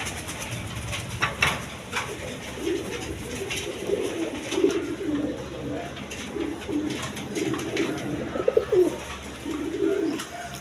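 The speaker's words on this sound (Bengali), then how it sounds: "এখানে গড়রা কবুতর আছে একদম নিউ অর্ডার পিয়ার" Pigeons cooing repeatedly in soft, low, rolling calls, fairly close, with light background noise.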